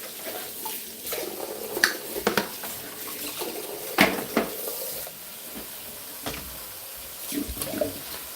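Cauliflower being washed in water for juicing: splashing and sloshing with scattered clinks and knocks, fairly quiet and close, without speech.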